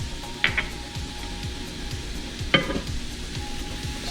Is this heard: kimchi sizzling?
yes